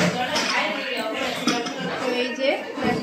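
A metal biryani pot lid clanks and clinks as it is handled and lifted, with light utensil rattles close by and a voice talking alongside.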